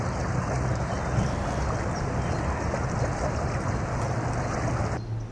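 Water along the shore of a scenic Norwegian village, a steady broadband wash with wind and low rumble, continuous and fairly loud with no voices.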